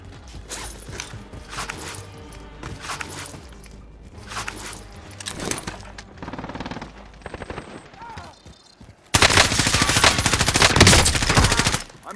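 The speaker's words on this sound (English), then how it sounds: "I'm under fire." Rapid gunfire from the Call of Duty: Warzone video game, bursts scattered among game effects and voices before a loud, dense stretch of sustained shooting near the end.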